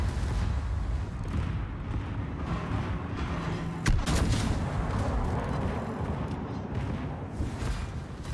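Heavy naval guns firing in World of Warships boom over a constant rumbling battle backdrop, with one sharp, louder blast standing out midway among distant, rolling shots.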